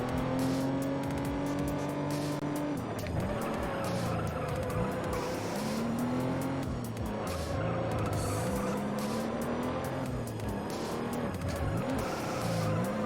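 A Toyota Supra in the racing game Need for Speed Most Wanted keeps a steady engine drone with shifting pitch, repeated tire squeals and skids, and continuous loud racing, with no talk over it.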